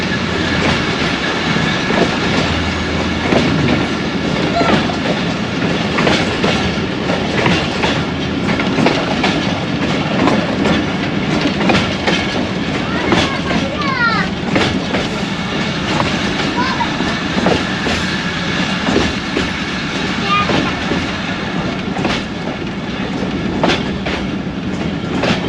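A train runs on the Narowal branch line out of Lahore, its wheels clattering in a steady clickety-clack with a brief squeal, loud and close throughout.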